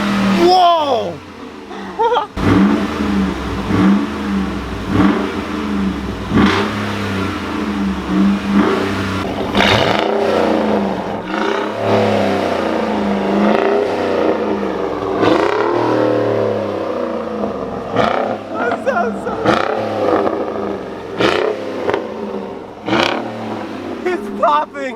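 Close, loud revving from a Ford Raptor truck with a Corsa exhaust, repeated throttle blips rising and falling over a rumbling idle, with crackling pops on deceleration and people chuckling and talking underneath.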